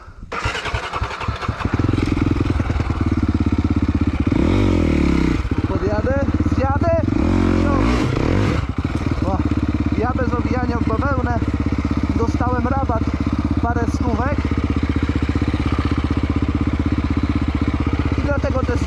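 A quad ATV engine on new Hakuba tyres, rough and stuttering at first, then catching and idling loudly up close with repeated throttle blips that rise and fall. Someone talks over it throughout.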